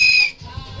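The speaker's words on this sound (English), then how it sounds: "That's my whistle." A person whistles a brief high, thin note that fades within a fraction of a second, leaving a quiet low background.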